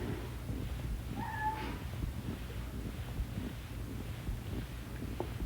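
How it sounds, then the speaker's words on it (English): A pet cat named Clancy gives a short meow, two brief rising cries close by, over steady background noise and rustling, with no talking. "He's a crazy Clancy cat."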